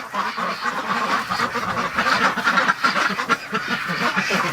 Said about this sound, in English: we're gonna go inside here and see the duckies